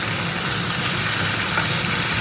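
Koi fish frying with spice masala in a pan, a steady close sizzle with no talk.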